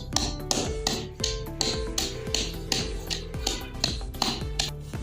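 Hard dried pomegranate seeds pounded in a mortar for a digestive chutney, a steady series of sharp ringing knocks about twice a second, each with a short metallic ring, close and continuous with no talking.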